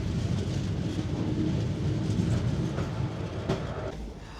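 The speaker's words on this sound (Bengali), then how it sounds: "ট্রেন ক্রস করছে" The 12363 Kolkata–Haldibar train rolls through Dum Dum station on the way to NJP. A steady, heavy rumble of the moving coaches is heard from close by, with occasional wheel clatter over the rails.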